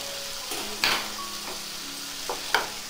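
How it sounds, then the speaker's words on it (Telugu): Green peas and boiled vegetables being stirred in a pan for kurma, a soft simmering sizzle with a few sharp spoon scrapes and clinks against the pan. "గ్రీన్ పీస్ వేసి బాగా కలిపిపెట్టండి."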